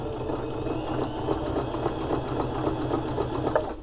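Sewing machine running with a fault: a steady, fast mechanical whir with a rapid rattling stitch rhythm, close and continuous, with no talking.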